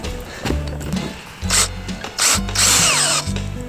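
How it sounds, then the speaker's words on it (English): A power drill whirs into wood in short bursts, its motor rising and cutting off three or four times, close by and fairly loud. "that's how you use a drill"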